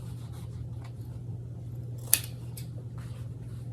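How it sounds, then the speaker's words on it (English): Scissors nip the edges of a fabric wallet once, a single sharp snip standing out against a steady low background hum, with a couple of fainter cuts around it. "I'm just going to nip the edges here"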